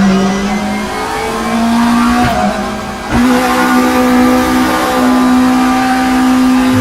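A race car engine in the RaceRoom racing game held against its rev limiter after a missed shift, a loud, steady high-pitched whine that dips briefly, then snaps back to a sustained buzzing drone.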